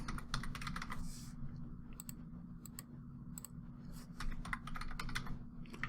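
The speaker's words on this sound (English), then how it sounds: "Let's just type in burger" Bursts of close clicky keystrokes on a computer keyboard as a search term is entered while a Facebook ad is being set up, irregular clusters over a low steady hum, with no talking.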